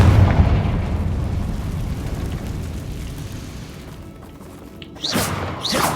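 Confringo explosion spells go off in the Hogwarts Legacy video game: a heavy booming blast that rumbles and fades, then sharper bursting impacts near the end.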